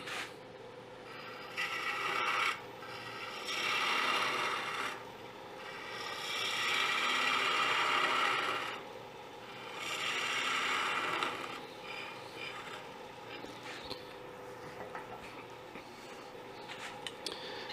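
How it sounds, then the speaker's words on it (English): A 5/8 detail gouge cuts wood on a lathe, a spinning workpiece giving a soft scraping hiss that swells and fades over several passes, fairly quiet and close, with no talking. "we're going to use a 5/8 detail gouge from Robust, and we're going to cut this down to take the divot out where the live center was"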